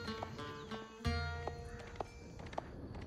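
Horse neighing with clip-clopping hooves in the medieval strategy game Age of Empires IV, a whinny and hoof clatter over layered game music and effects, with sharp repeated accents.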